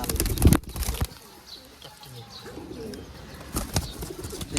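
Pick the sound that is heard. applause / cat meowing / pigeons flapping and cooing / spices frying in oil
pigeons flapping and cooing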